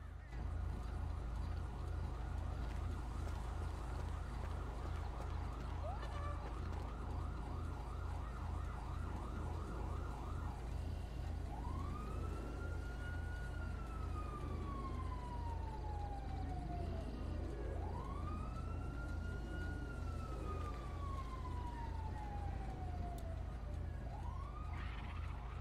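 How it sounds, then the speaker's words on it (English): Police sirens wail in the GTA 5 video game, rising and falling sweeps that grow steadily louder as they approach over a constant low engine hum, with no talk. "Oh, I hear sirens."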